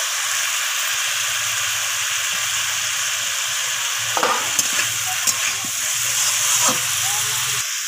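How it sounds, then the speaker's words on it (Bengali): Chopped coriander leaves stirred into a sizzling bean, potato and cauliflower curry, a loud constant frying hiss over a low hum, with a few spatula scrapes and knocks near the middle and end. "তো ধনিয়া পাতাটাকে দিয়ে আমি সব কিছুর সাথে মিশিয়ে নেব"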